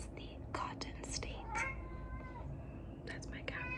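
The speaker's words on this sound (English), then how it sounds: "That's my cat meowing" A house cat meows several times in short, high cries over a quiet room, faint and close, with soft whispering around it.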